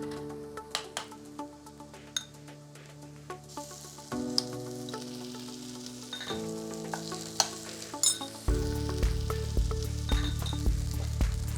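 Grated corn for humita cooking in a pan, a gentle sizzle with scattered clicks and stirring taps that grows steadier and louder partway through, a low background hum changing in steps.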